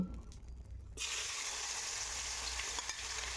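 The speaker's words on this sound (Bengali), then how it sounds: "নুন হলুদ মিশিয়ে রাখা কই মাছগুলি একে একে তেলের মধ্যে দিয়ে দেব" Koi fish seasoned with salt and turmeric drop into hot mustard oil, setting off a sudden loud, steady sizzle that bursts in about a second in and stays bright and continuous to the end.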